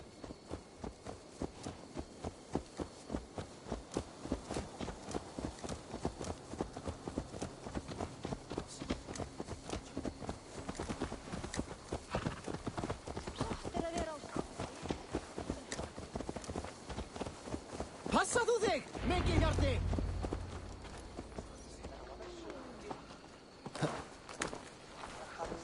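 Steady horse hoofbeats in Assassin's Creed Valhalla clip-clop in an even rhythm for a long stretch, with voices talking over them and a brief louder rumble near the end.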